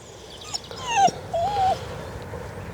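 A cockapoo dog whines in two short, high, rising-and-falling whimpers, close and fairly loud, with a faint yip before them and quiet room tone in between.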